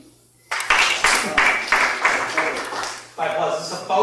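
A live audience claps in bursts to vote on a question, the broadband applause swelling and pausing in several short waves from moderate to loud.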